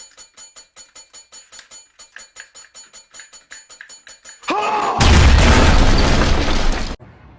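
Explosion sound effect: a run of rapid rhythmic ticks builds into a sudden loud blast and roaring rumble that cuts off abruptly after about two seconds.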